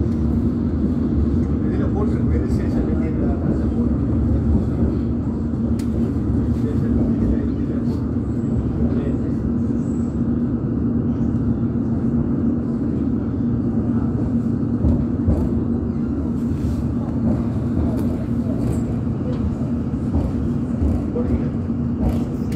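A London Underground S7 Stock train running on the Hammersmith & City line makes a steady low rumble and whine with faint rattling clicks, continuous and close from inside the carriage throughout.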